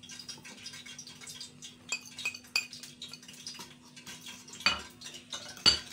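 Spices being stirred into Bihari bachka batter in a bowl, giving soft scraping with scattered utensil clinks against the bowl, close and fairly quiet, with a few sharper taps near the end.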